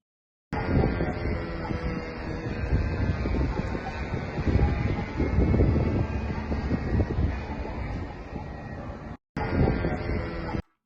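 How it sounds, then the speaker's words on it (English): An attack drone's propeller drones steadily overhead, a continuous engine buzz mixed with wind rumble that holds for about nine seconds, briefly cuts out, then resumes. "I can't really see the drone that is flying, but you can definitely hear it there in the background."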